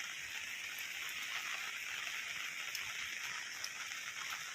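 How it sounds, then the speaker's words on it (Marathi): Steady, dense hiss of heavy monsoon rain pouring down continuously in the hills, with faint scattered drop impacts and no voices. "एवढा तुफान पाऊस आहे फर्स्ट टाइम एवढा पडला पाऊस"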